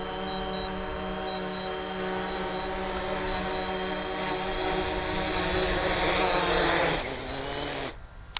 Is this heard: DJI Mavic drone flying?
yes